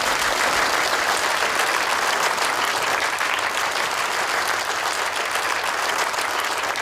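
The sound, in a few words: applause welcoming company president at gala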